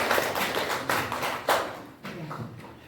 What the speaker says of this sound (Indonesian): Iya, tepuk tangan untuk filmnya.